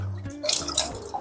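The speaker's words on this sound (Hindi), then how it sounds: "ये मैंने बीकर को अच्छे से वॉश कर लिया है" Water splashes and drips while a glass beaker is rinsed, with a low hum fading out at the start, then scattered splashy drops and trickles close by.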